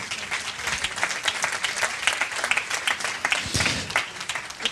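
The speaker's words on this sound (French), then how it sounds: "Et allez, on va les applaudir." Audience applause at a forum event fills the whole stretch, a dense, steady wash of many hands clapping at a lively, even level with no voices on top.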